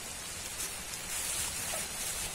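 Steady rain falls outdoors by a river during a wader fishing trip, a dense continuous hiss of drops on surfaces and foliage, fairly loud and uniform with no voices.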